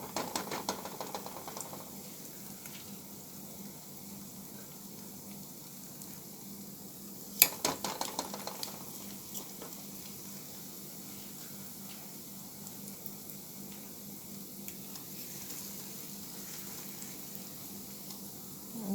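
Saltfish fritters frying in a pot of hot oil, a soft steady sizzle and crackle with a brief clatter of utensils partway through, quiet and close.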